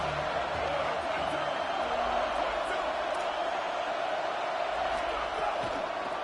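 In the video game College Football 27, a dense, steady roar of a large stadium crowd fills the air, a constant wash of voices with no clear individual words.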